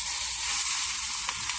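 Browning food fries in a pan, giving a steady, close, bright sizzle with a faint crackle and no voices.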